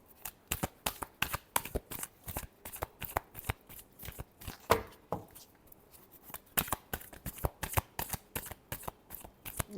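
Tarot cards being shuffled by hand in a long, rhythmic run of crisp riffling bursts, close and fairly loud, continuing without pause and with no talk.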